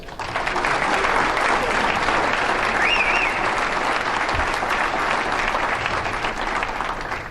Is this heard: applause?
yes